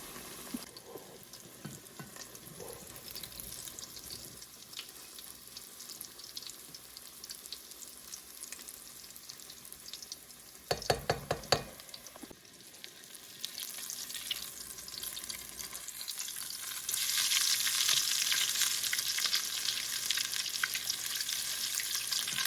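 Canned-fish cakes frying in hot grease in a pan, with a constant close sizzle that briefly rises as they are turned and then swells louder toward the end, and no talk.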